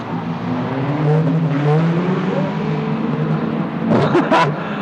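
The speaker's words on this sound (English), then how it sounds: "here's the 112 car, the Tony Mellish machine, making all sorts of rackets and noises." The 112 race car roars around the track at the Rolling Thunder Expo 2018. Its loud engine revs rise and fall with gear changes, and a sharp burst of noise comes near the end, with no talk over it.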